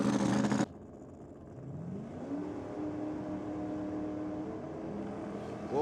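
A Holden Commodore drag car fitted with a Nissan engine revs at a dragway, the engine note climbing and then holding a steady drone, heard from a moderate distance after a brief loud burst at the start.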